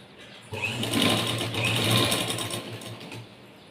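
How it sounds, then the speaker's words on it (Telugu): A sewing machine runs steadily for a few seconds, stitching a thin seam at the shoulder of a straight-cut blouse, its close, fast mechanical whir rising and easing with no talk over it. "ఈ నెక్ దాని మీద షోల్డర్ దగ్గర ఒక సన్నగా స్టిచ్ వేసుకుంటే"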